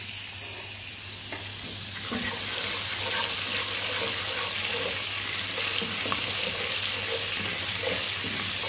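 Green chillies dropped into hot oil in a pan while cooking pilaf, giving a steady loud sizzle and hiss with small crackles, over a low constant hum and no talk.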